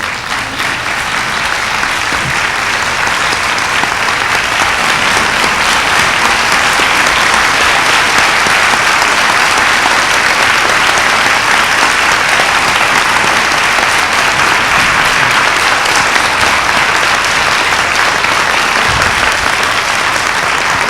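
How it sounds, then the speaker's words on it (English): Sustained, loud audience applause after a session talk, a thick continuous roar of clapping hands that holds steady for about twenty seconds. "They say in Russia, the speaker can applaud the audience."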